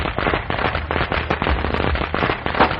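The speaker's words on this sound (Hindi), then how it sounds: "पटाखों की आवाजें गूंज रही थी" Firecrackers going off on a rooftop in a dense, continuous barrage of sharp cracks and pops, loud and close, with no voices over them.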